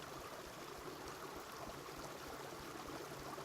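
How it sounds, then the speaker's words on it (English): Steady running water flows in a soft, continuous rush, fairly faint and even, with no voices; sound from the video game Reign of Kings. "I could totally be down with the sound of running water all day"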